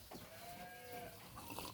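Jawa Randu goats in a pen give a drawn-out bleat in the middle, with faint rustling and shuffling around it at low volume.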